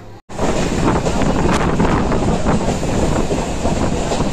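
Passenger train running from Sealdah toward Namkhana, a loud continuous rumble and rattle of carriages with heavy wind buffeting the microphone, heard from on board with no talk.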